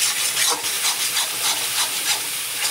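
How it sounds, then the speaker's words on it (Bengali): Chicken frying in a pan, a steady broadband hiss and sizzle with gentle pulsing swells, close and continuous with no talking. "একদম ফ্রাই করে নিতে হবে।"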